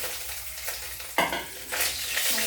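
Rohu fish pieces frying in oil, a lively close sizzle with a sudden sharp spatter burst midway as the pieces are stirred, no voices.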